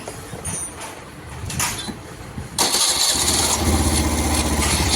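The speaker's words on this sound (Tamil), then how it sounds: "சைட் ஸ்டாண்ட் எடுத்து ஸ்டார்ட் பண்ணுங்கள்" A motorcycle engine is started after its side stand is raised. Faint background noise gives way to a sudden loud catch, and the engine settles into a steady, rough idle nearby.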